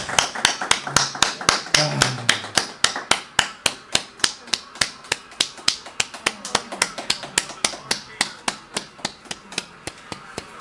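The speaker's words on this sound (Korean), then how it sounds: "우리 한 박수 한번 보내줍시다." A church congregation claps in a steady, even rhythm during a Korean sermon, sharp claps spaced evenly and continuing throughout, with a voice speaking over the first few seconds.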